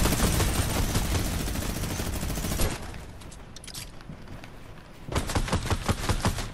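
A Fortnite minigun fires in long, dense, buzzing bursts: one sustained volley, a quieter gap with distant shots, then another close loud burst.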